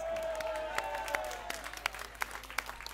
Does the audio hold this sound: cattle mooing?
no